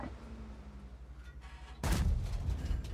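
A Scorpion G tank firing its gun in World of Tanks: a low engine rumble, then one sudden loud booming shot that rolls on into a heavy, sustained tail.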